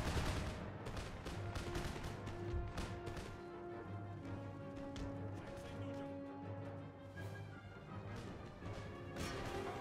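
Musket volleys from an Empire Total War battle crackle continuously and fairly faintly, with many overlapping shots in a busy, distant-sounding mix of combat noise.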